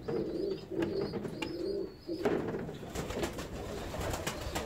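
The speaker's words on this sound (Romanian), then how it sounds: "Avem și cea de-a doua pereche de puișori de rândunele de Saxonia" Young Saxon swallow pigeons cooing, a series of soft repeated murmuring coos close by in a loft, with faint rustling and chirps in between and no talking.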